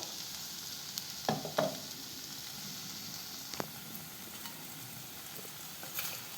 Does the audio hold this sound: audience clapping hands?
no